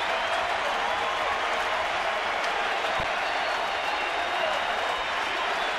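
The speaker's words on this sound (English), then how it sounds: "The sellout crowd right now on their feet." A sellout baseball stadium crowd in San Francisco roars steadily on its feet during a Dodgers–Giants game, a broad, distant wash of cheering that holds constant throughout.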